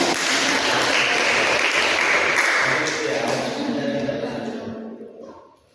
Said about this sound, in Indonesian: Jadi Tepuk tangan dulu.